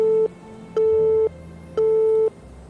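A telephone busy tone sounds after a call signal cuts out: three loud, evenly spaced steady beeps with short silent gaps between them, heard alone with no talking.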